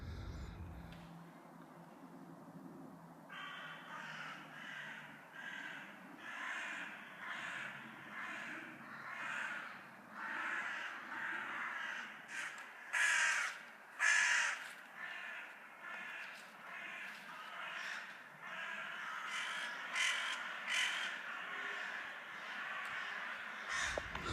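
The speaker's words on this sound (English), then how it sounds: "you can hear all the crows" Crows caw repeatedly at a distance over a quiet, steady outdoor hum in a Manchester cemetery, with a few louder, closer caws partway through.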